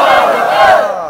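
A large crowd at a Bangladeshi religious sermon gathering roars the takbir chant in unison, one loud sustained shout of many voices that fades slightly at the end.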